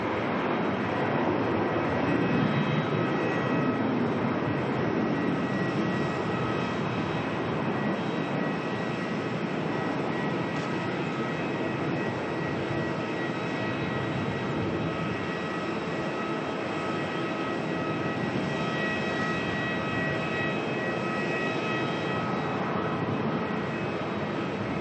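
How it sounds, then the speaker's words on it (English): A Jetstar jet airliner leaving Melbourne for Sydney gives off a loud, steady engine roar with tonal whine, holding strong from start to finish without any voices. "Jetstar here heading off to Sydney"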